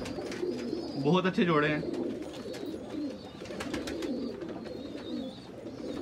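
Sialkoti pigeon breeder pairs coo softly in a loft, low rolling calls repeating steadily at moderate distance, with someone talking over them for part of the time.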